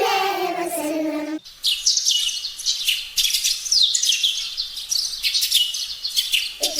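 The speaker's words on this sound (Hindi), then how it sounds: "चिड़िया बोली चूं चूं चूं" Birds in a children's song chirp and tweet in quick, bright bursts, loud and close, following a short stretch of singing at the start, with another voice coming in at the end.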